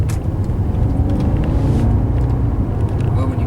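A 2012 Jaguar XF Portfolio with a 5.0L V8 drives along, its deep engine rumble and road noise steady and loud from inside the cabin throughout.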